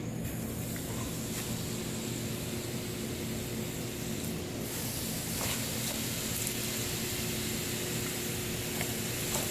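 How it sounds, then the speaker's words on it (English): Okra frying in hot oil gives a steady, dense sizzle that holds evenly throughout with no talking. "Oil sizzling."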